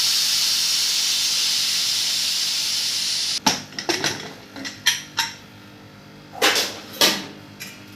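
Pressure cooker on a home stove, used for tomato dal after two whistles, hissing steadily for about three seconds, then releasing steam in a series of short sharp hisses and bursts, close and fairly loud.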